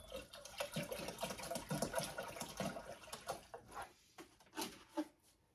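Water pours and trickles into the small reservoir of a portable steam sauna generator, a steady close splashing fill that thins into a few separate drips and gurgles toward the end, with no talk.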